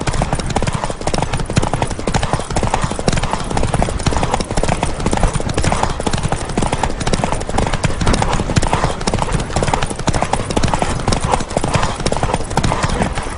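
Galloping horse hooves during a horse race in The Witcher 3, a fast, continuous, loud clatter of hoofbeats pounding throughout, with no clear break in the rhythm.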